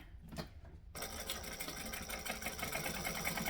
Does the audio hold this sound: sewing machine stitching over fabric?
yes